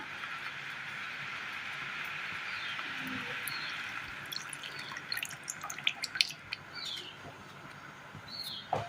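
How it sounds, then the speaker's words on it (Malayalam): Milk and maida mixture pouring into a pan of carrots, a steady liquid rush that gives way to scattered drips and light clinks, close but fairly quiet. "ഈ സമയം ഇതിലേക്ക് നമ്മൾ മിക്സ് ചെയ്ത് വെച്ചിരിക്കുന്ന പാലും മൈദയും മിക്സ് ചെയ്ത് വെച്ചത് ഒഴിച്ചു കൊടുക്കാം."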